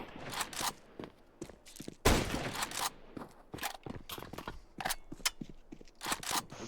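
Sharp bursts of gunfire trade back and forth in a Counter-Strike 2 tournament match, a quick run of close, loud shots mixed with clicks and footsteps.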